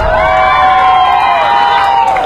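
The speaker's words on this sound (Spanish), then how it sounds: "¡Un aplauso para el participante número uno!" A crowd at a singing contest cheers and shouts loudly for the first contestant, a dense, continuous roar of voices and whoops from start to finish.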